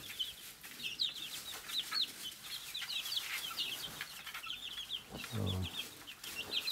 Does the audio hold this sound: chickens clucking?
yes